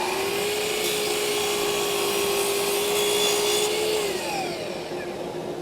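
Woodshop power saw cutting wood for door parts while two dust collectors run: a loud, constant roar of the collectors carries a steady whining blade tone for about four seconds, which then drops away as the cut finishes.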